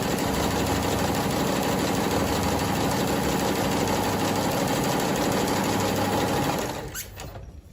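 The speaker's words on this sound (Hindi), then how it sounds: "मैंने जो नीचे वाला ये वाला स्टिच सेलेक्ट किया है वही वाली ये मशीन जो है वो स्टिचिंग करना शुरू कर देगी।" A Singer SN 150 sewing machine runs steadily while stitching a double zigzag, its loud, even mechanical whir holding for about six seconds before slowing and stopping near the end.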